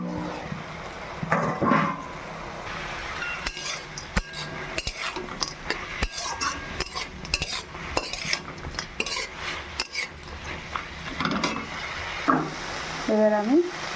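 Amaranth greens with fried bori and peanuts cook in a pan, with scattered clinks and scrapes of a spoon stirring over a soft sizzle, close and moderately loud throughout.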